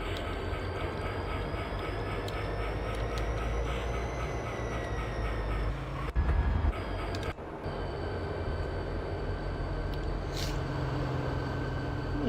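A Pendolino tilting electric train runs in the Open Rails simulator, a steady loud low rumble and whine with brief thumps around the middle, while a person talks over it.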